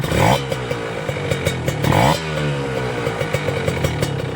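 A healthy motorcycle engine, still running its B-size piston, is blipped twice in sharp revs above a clattery idle. It then settles back into a steady close-up idle.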